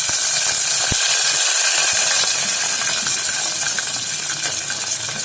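Mustard seeds, homemade onion vadagam, a little chopped onion and garlic frying in hot oil, a loud steady sizzle and crackle close up with one sharp pop early on.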